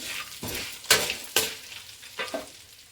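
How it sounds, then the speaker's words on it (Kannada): Dried red chillies fry in hot oil over a low flame, giving a soft crackling sizzle with several sharp bursts and spatters as they are stirred, close and quiet with no talk. "ಆ ಬಿಸಿ ಎಣ್ಣೆಯಲ್ಲೇ ಅದು ಫ್ರೈ ಆಗಿಬಿಟ್ರೆ ಸಾಕು"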